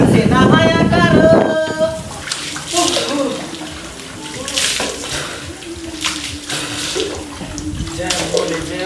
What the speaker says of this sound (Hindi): देखिए यहाँ के ठंडा ठंडा पानी से नहाया करो, कूल कूल पानी से नहाया करो।